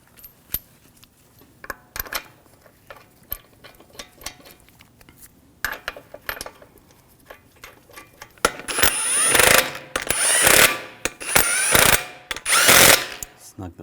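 Ratchet cranking lug bolts onto a Volvo S60 wheel: quiet scattered clicks and taps at first, then several loud, dense bursts of rapid metallic ratcheting close by.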